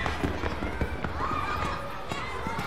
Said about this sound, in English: Oh, it's firecrackers.